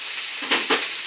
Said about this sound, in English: I'm going to add my pineapple chunks, juice and all, the whole lot, all goes in.